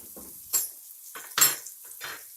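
Boneless chicken frying in a handi: a few sharp clinks and scrapes of a spoon against the pot, spaced irregularly over a faint sizzle, close and fairly quiet.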